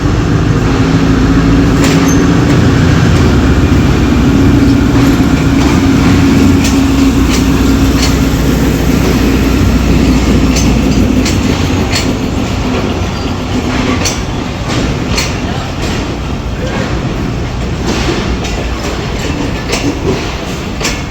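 The Musa Pak Express passenger train, hauled by a ZC20 locomotive on its Multan to Lahore run, rolls past close by in a loud, steady rumble with rhythmic wheel clatter and rail clicks throughout, no voices.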